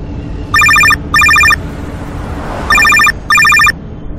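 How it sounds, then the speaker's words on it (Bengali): A telephone bell rings in two double bursts, bright and electronic, with a steady low room hum under it and no talking. "এই তো রঘু ফোন করেছে, আমি কথা বলছি।"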